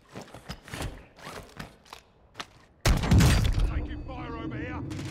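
Gunfire in the Warzone 2 video game on Ashika Island, starting as scattered sharp shots and thumps, then a loud burst of heavy fire and a sustained roar, with voices talking over it.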